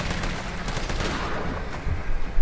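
Rapid gunfire in Resident Evil 3 aimed at a fish monster, a steady stream of loud overlapping shots lasting a couple of seconds with heavier bursts near the end.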